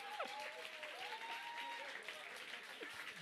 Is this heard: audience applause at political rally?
yes